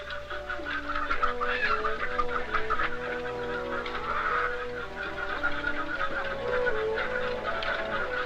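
Chickens cluck and murmur continuously at moderate loudness inside warm farm buildings in winter, a busy flock of laying hens with overlapping calls and a steady background hum.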